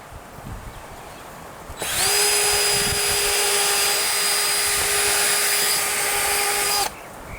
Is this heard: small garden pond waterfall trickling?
no